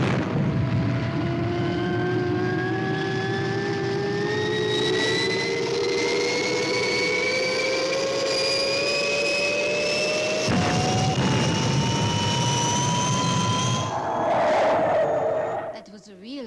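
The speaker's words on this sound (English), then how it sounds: "That was a real boss takeoff, Steve." The Fireball XL5 spacecraft takes off with a loud, sustained jet roar whose whine climbs steadily in pitch, then fades at the end as a voice comes in.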